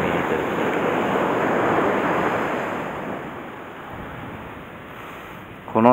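Ocean waves rolling onto a surf beach during lure fishing make a steady, fairly loud wash that slowly eases off, ending with a brief sharp noise near the microphone.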